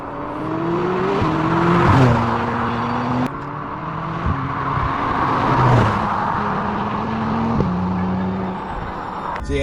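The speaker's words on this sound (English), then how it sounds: "give us a couple of flybys, just so you guys can hear what this car sounds like from the outside" A McLaren 600LT supercar's high-revving engine roars loudly, rising through gears with sharp shifts, passing close by and fading before another loud pass builds up.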